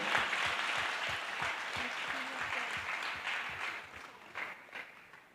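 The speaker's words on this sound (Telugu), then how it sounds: "చాలా గట్టిగా క్లాప్స్ కొడదామండి." An audience applauds loudly and steadily at a Christmas song event, the dense clapping continuing for about five seconds before tapering slightly at the end.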